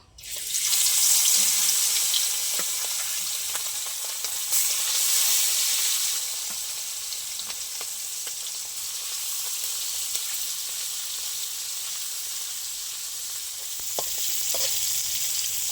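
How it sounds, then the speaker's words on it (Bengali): Small fish dropped into hot oil give a loud, dense sizzle from the start that settles into a steady close frying hiss with occasional crackles, no voices. "ওই তেলে আমি বাকি ছোটো মাছগুলো দিয়ে দেবো"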